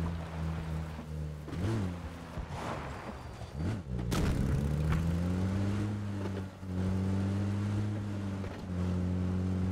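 A car engine in PUBG on the Erangel map drones steadily at close range, with the pitch rising and settling as it shifts through gears, plus a few bumps and knocks along the road.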